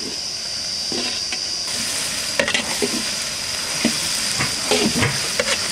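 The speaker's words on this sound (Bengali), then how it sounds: "ফোড়নটা রেডি হয়ে গেছে, পেঁয়াজ আর লঙ্কা একসঙ্গে দিয়ে দেবো।" Onion and chili hitting hot oil with tempering spices in a village cooking pot, giving a steady loud sizzle and hiss with occasional stirring clatters and scrapes.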